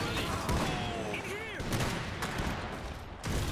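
Dense battlefield gunfire from the Iron Harvest strategy game, a continuous rattle of shots with whistling tones, mixed with voices talking over the fight.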